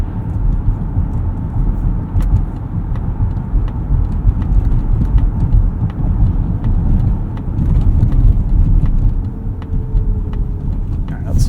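2025 Mazda CX-50 Hybrid rolling over a bumpy road with a steady low cabin rumble and road noise, faint thumps from the uneven surface, with someone talking over it.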